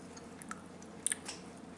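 Close, quiet mouth noises from chewing a crunchy homemade protein waffle: soft wet chomps with a couple of brief crisp crunches in the middle, no talking.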